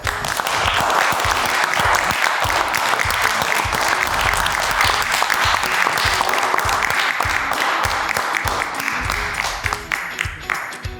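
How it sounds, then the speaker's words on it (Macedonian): A studio audience at a TV cooking-competition finale breaks into long, dense applause, many hands clapping steadily and loudly before easing slightly near the end. "Голем аплауз за сите."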